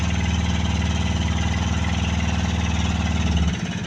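A rebuilt wooden outrigger boat engine, repaired after a collision, runs steadily at a low, even idle for several seconds, loud and close, then drops away at the end.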